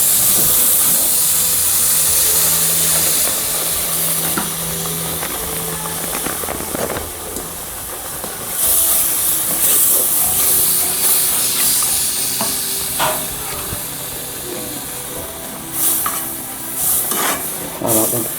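Milk poured into a hot pan over a flour-and-oil roux, then stirred steadily for a cauliflower gratin sauce, giving a continuous sizzling hiss with scraping stirs close by and no talk.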